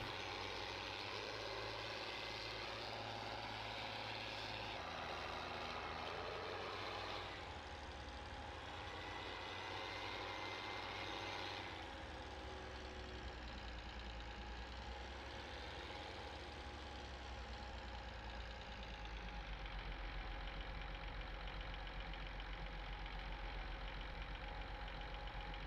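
An old, dirty tractor in Farming Simulator 19 climbs a steep slope while belching black smoke, its engine droning steadily and shifting in pitch and load partway through, with no talking.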